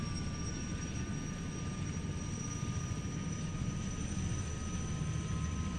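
A Gazelle helicopter's turbine engine hums steadily as the throttle comes up to flight idle, a constant whine over a low rumble heard from inside or nearby, with no talking.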